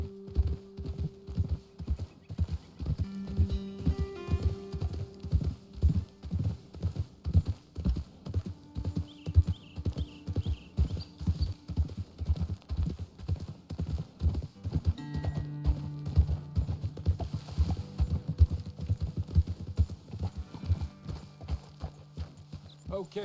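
Steady, rhythmic clip-clop of horse hooves at a walking pace in the video game Red Dead Redemption 2, close and clear, with a low hum and occasional tonal notes underneath.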